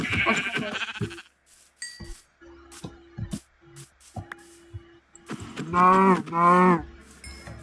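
Cows mooing in the Minecraft video game, a few drawn-out lowing calls spaced through the clip with a louder, longer moo near the end, against quiet game ambience.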